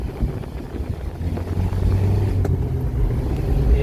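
A steady, deep rumble from the air-cooled engine of a 1970s VW Fusca 1600 or 1500 fills the cabin while it drives, loud and continuous with a low throbbing texture.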